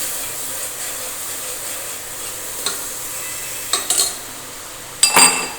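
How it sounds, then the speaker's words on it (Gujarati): Red chutney sautés in hot tempering in a pot, giving a steady close sizzle. A spoon stirs and scrapes against the metal, with a few sharper clinks toward the end and no talking. "અને હવે આપણે ચટણીને સાંતળી દઈશું બરાબર."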